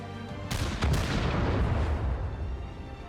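Sharp gunshot cracks, two in quick succession, setting off a deep, rolling explosion that rumbles on and fades slowly, loud and close in the tactical video game The Lamplighters League.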